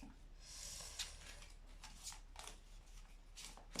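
Oracle cards being shuffled and sorted by hand, soft riffling and sliding card noises with a few sharper flicks, close and quiet with no talking.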